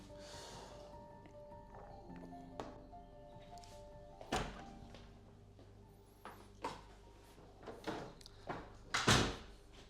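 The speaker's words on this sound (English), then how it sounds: "My whiteboard's falling." A whiteboard falling during a breathwork session gives a few scattered knocks and thuds, the loudest clatter near the end, amid quiet room noise.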